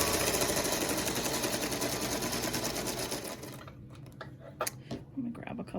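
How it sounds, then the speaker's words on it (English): A sewing machine stitches quilt squares together, running as a loud, steady mechanical whir for about three and a half seconds before stopping abruptly, followed by a few faint clicks and handling noises. "I'm going to grab a couple squares and sew these together"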